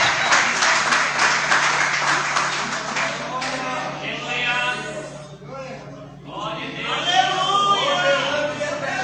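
A church congregation claps during a worship service, a moderate patter of many hands for the first few seconds that fades as someone speaks and voices take over.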